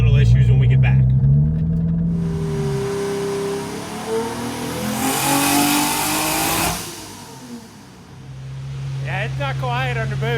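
A 2JZ-swapped Dodge Hellcat engine revs hard under boost, a loud sustained rising roar that swells to a harsh peak, drops away, then climbs again close by.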